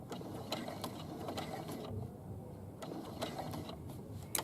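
A domestic sewing machine topstitches a trouser fly, giving a steady, fairly quiet mechanical whir with faint rhythmic ticks throughout, briefly easing off in the middle before running on.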